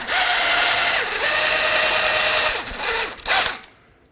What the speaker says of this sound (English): Support the top with a wrench and remove the bottom with your socket. Remove the nut and the bolt.